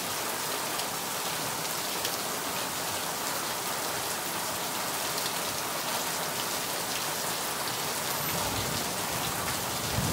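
Steady rain falls continuously and evenly, a dense close hiss of drops on surfaces with no pauses, heard alone.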